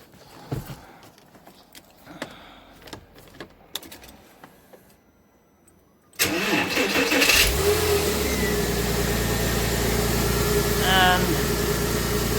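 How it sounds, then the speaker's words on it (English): Quiet clicks and handling noises give way to a Porsche 986 Boxster engine cranking and catching abruptly, then settling into a loud, steady idle close by. "I've started the car up, and if I do a quick start now"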